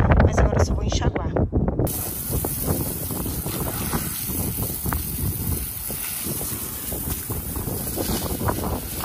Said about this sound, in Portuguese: Não sei se vocês estão escutando por causa do vento.